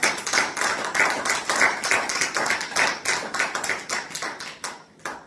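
A church congregation claps together in acclamation at a worship service, a steady rhythmic run of loud, close handclaps that carries on without a break.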